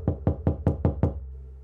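Six firm, evenly spaced knocks land on a house door, solid and close, then the room goes silent.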